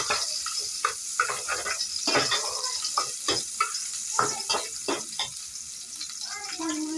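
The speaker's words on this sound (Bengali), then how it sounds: "পেঁয়াজ দিচ্ছি দুই চামচ কয়েক টুকরো কাঁচামরিচ দিয়ে দিচ্ছি ভেজে নেব খুব ভালোভাবে" Chopped onion and green chillies sizzling in hot oil in a pan, a steady close frying hiss with stirring clatter, for a village-style khuder bhat broken rice dish.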